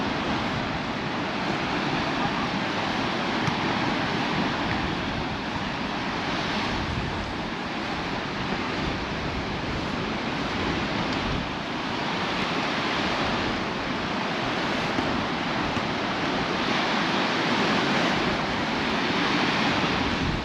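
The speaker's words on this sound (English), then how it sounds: "Hopefully you can hear the sea, because it is roaring in the background." Rough sea surf roars steadily at Paguera, Mallorca, with the wind blowing onshore; a dense, continuous wash of waves and wind noise fills the whole stretch, with no voices over it.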